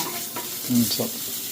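Finely chopped ginger and garlic frying in oil for a Kerala-style fish dish, a brief close sizzle with a quick stirring scrape in the middle.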